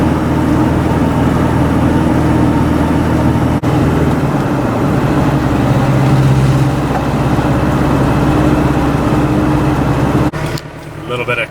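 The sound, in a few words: lifted Volvo 245 with swapped Mitsubishi turbo diesel engine driving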